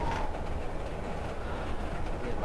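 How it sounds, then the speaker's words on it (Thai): A train rumbling past in the Layer of Fear DLC horror game, a steady dense rolling roar with rail noise filling the whole stretch, loud and continuous. "ในบ้านกูมีรถไฟ ทำไมมันเป็นรถไฟ"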